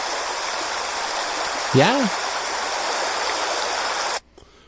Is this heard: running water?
yes